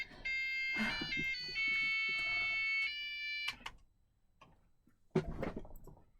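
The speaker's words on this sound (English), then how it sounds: "I have no idea who set an alarm on that or how that got set and why it's a Christmas song" An electronic alarm goes off playing a Christmas tune as a bright, beeping melody for about three and a half seconds. It stops, followed by a pause and some close handling clatter.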